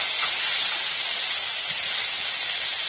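Bitter gourd slices fry in hot oil, giving a loud, close, unbroken sizzling hiss that stays level throughout with no talking.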